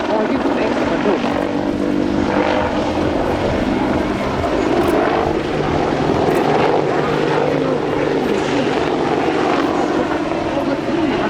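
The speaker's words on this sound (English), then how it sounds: "Major Love will pull up into an impressive Viking climb and swing forward for his next maneuver." A Boeing AH-64D Apache attack helicopter manoeuvres at the Singapore Airshow, its engine and rotor making a loud, continuous roar that rises and falls as it climbs and swings. A commentator talks over it throughout.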